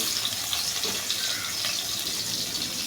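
Sliced onions go into oil for biryani beresta and fry with a steady, even sizzling hiss that continues throughout.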